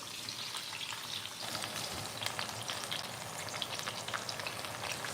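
Beef sears in a pan for a braise, a continuous soft crackling sizzle like light rain, fairly quiet and steady throughout with no voices.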